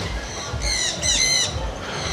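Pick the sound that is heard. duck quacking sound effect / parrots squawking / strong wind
parrots squawking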